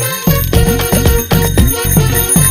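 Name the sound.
bicycle bell ringing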